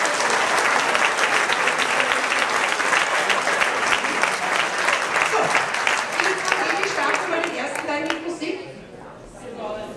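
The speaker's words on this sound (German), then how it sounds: "der gibt auch einen Applaus" Audience applause at the ÖTAKO Velden 2017 event, loud sustained clapping from a crowd for most of the stretch, then fading out near the end as a voice comes in.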